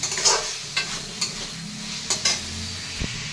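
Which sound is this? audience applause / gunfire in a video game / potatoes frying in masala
potatoes frying in masala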